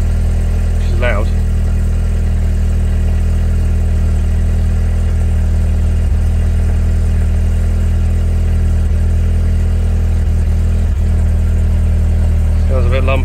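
A DS3 Performance engine with a Cobra decat idles loud and close, a continuous slightly uneven lumpy drone with no clear revs.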